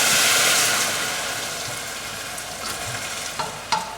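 Dry white wine pours into risotto rice in a hot pan, setting off a loud hissing sizzle that gradually fades to a softer bubbling, with a couple of faint clinks near the end and no voices.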